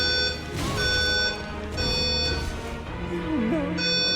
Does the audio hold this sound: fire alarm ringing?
yes